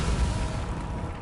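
An Incendio fire spell cast in Hogwarts Legacy, a deep whooshing burst of flame that booms low and rumbles away over about a second, loud and close.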